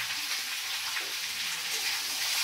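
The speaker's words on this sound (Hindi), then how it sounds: "चलिए प्याज को है ना गोल्डन ब्राउन होने तक आपको भूनना है ना?" Onions sizzle and fry in hot oil over a lowered flame for a chicken curry, a steady dense hiss with soft crackles running throughout, close and alone.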